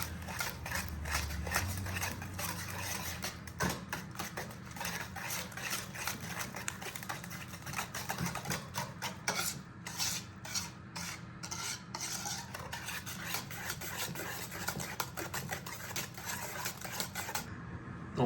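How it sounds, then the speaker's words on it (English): Wet baking ingredients being whisked together in a bowl, with rapid, continuous rhythmic clinking and scraping of the whisk against the bowl, up close and without any talking. "So now you whisk these together."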